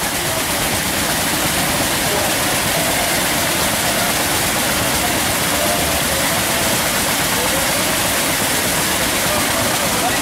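A fountain's waterfall in Tiraspol splashes and roars continuously, a loud, dense, close wash of falling water with no break.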